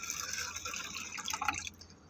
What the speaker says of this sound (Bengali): তো ডালটা ভালো করে জল দিয়ে ধুয়ে নিই